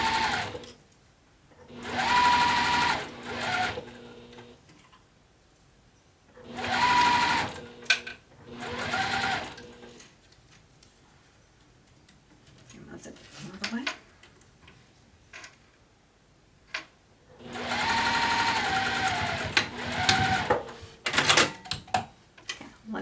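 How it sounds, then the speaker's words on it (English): Sewing machine basting a zipper panel for a bag, running in short stitching bursts separated by quiet pauses, close and clear, with someone talking between the runs. "Now I'm going to go back and catch my teeth in really well."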